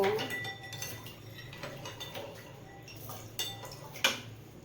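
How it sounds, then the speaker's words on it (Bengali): A spoon clinks against a bowl while stirring water seasoned with chaat masala for homemade fuchka, faint light taps and scrapes with a sharper clink near the end. "চামচ দিয়ে আমি জলটা নাড়িয়ে নেব"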